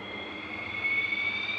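A Supermarine vintage propeller aircraft engine at the Paris Air Show gives a steady, moderately loud drone with a sustained high whine that grows slightly stronger toward the end, with no voices.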